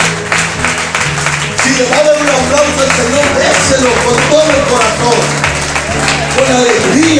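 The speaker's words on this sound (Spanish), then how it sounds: "Si le va a dar un aplauso al Señor, déselo con todo el corazón." Church congregation applauding during a service, broad rapid clapping carried over a sustained low musical or crowd bed, loud and continuous throughout.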